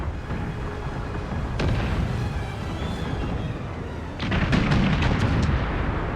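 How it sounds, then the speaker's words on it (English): Artillery fire in the strategy game Empire: Total War, a few distant booms early, then a rapid cluster of louder cannon shots and cracks over a constant rumbling battlefield ambience. "Now, I have been told that we don't mind the loud gunfire."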